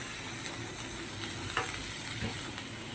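Chopped ginger frying in a hot pan for a vegetarian dish with paneer, capsicum and tomato, giving a steady close sizzle with a few scraping stirs and one sharper clatter midway, no voices.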